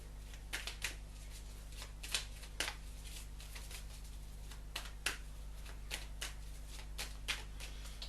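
Divine Oracle cards being shuffled by hand, a quiet, close series of soft riffling flicks and slaps at irregular intervals over a steady low hum.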